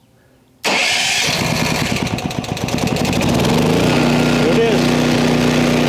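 A Firman tri-fuel generator running on natural gas, choke in the start position, cranks and catches, then settles into a loud, steady mid-pitched engine drone with a rising hum, while someone speaks briefly over it.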